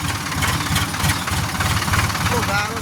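A tractor engine chugging steadily on a muddy road, a close, loud low rumble with a rhythmic knock that runs throughout under someone talking.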